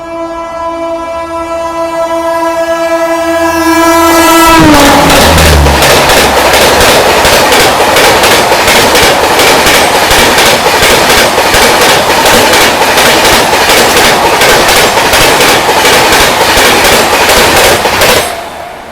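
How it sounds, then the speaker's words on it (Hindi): The Bhubaneswar Tejas Rajdhani Express sounds a long loud horn as it approaches, then roars past close by for over ten seconds with steady clattering of wheels over rail joints, fading at the end. "अब आ गई ये भुवनेश्वर तेजस राजधानी एक्सप्रेस।"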